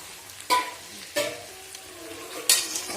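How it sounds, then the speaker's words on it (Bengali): Soybean curry fried and stirred in a pan like a chicken dish, with a faint sizzle and three sharp scraping clatters of a spoon against the pan, no voices. "তো তার জন্য দেখো যে সোয়াবিনটা বেশ ভালো করে করছি, চিকেনের মতন করি, কষিয়ে ঠসিয়ে ভালো করে করব।"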